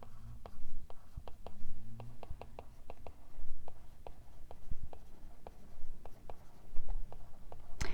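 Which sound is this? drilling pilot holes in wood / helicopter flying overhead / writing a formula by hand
writing a formula by hand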